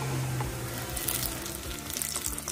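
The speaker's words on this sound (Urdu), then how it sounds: "اور اسے ہم لو فلیم پہ کم سے کم دو منٹ ہمیں اسی طرح فرائی کرنا ہے" A bread crumbs omelette fries in a pan over a low flame, a close, steady soft sizzle with faint crackles and occasional light pops and no voices.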